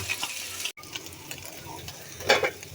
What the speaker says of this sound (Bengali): মাছগুলো উল্টাই দিলাম মাছ ভাজিটা হয়ে গেছে